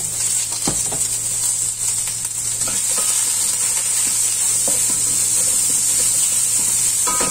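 Ingredients sautéing in a hot pan for fish sinigang, a continuous bright sizzle with occasional stirring scrapes and clinks, close and steady with no talking.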